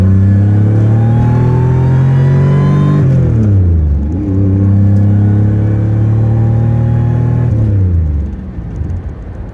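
An L67-swapped 1987 Pontiac Fiero GT engine revs loud and close, holding a steady drone, dropping sharply around the third second and again near the end before climbing back, with no voices.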